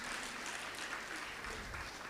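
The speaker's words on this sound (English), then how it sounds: "Give her a hand clap," Audience at a Kenya High School board of management day clapping to welcome the principal, a dense, steady burst of many hands close by that fills the whole short stretch.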